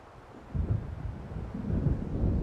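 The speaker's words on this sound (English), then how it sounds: "It seems there's a storm coming." Low, rolling thunder of an approaching storm in Alan Wake, swelling from quiet into a long, heavy rumble that grows louder toward the end, with no voices over it.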